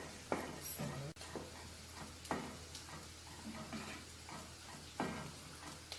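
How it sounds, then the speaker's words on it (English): Rice being stirred in a pot for a Southern Sunday dinner, with soft scraping strokes repeating every second or two over a quiet, steady low hum and faint sizzling. "Stirring up this again."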